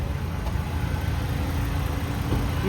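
A 2014 Maruti Swift VXI petrol engine idles smoothly and quietly nearby, an even low hum that holds steady throughout with no voices.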